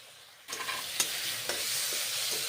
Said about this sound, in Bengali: করলা ভাজা এইভাবে ভেজে নিচ্ছি।